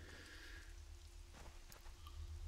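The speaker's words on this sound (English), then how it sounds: "It's rainy" Rain falls in the video game Conan Exiles, a soft, steady patter and hiss with scattered droplet ticks, heard faintly throughout without any talking.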